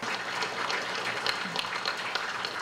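Colleagues applaud, a brief, steady patter of clapping hands with no pauses.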